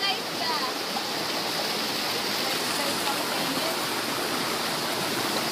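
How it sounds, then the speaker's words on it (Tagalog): Water pours from a waterfall on an island, a dense continuous rushing hiss that holds steady and fairly loud from start to finish. "sa falls nang gagaling ang tubig na yan"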